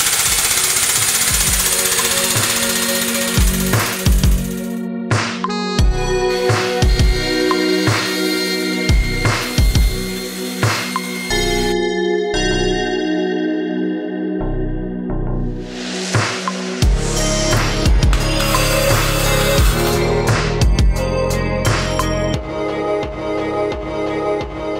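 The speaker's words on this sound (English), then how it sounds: "Bending the forehead bar, we're just going to put a bend on either end with the end of the tube right at the front of our die." A hydraulic tube bender bends a steel roll cage forehead bar tube in a workshop, giving loud, continuous mechanical hammering and knocking with repeated pulses and brief pauses, close by and filling the whole span.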